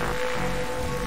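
Rain falls steadily at night in the detective adventure game The Darkside Detective, a dense, even hiss of drops with no voices.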